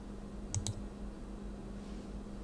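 Two quick mouse clicks, close together and crisp, over a steady low computer hum while setting up a Rocky Linux install in VirtualBox.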